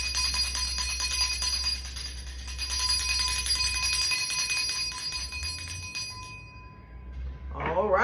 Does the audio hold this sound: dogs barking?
no